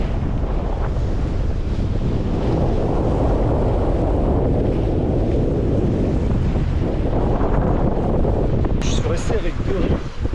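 Wind of about twenty knots buffets a microphone on a solo sailboat at sea off the Mexican coast, a heavy constant rumble and roar with water rushing beneath and a voice partly audible.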